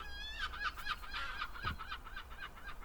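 Seagulls calling in Edinburgh, a run of loud repeated squawking cries close by over a steady low background hum, with no talking.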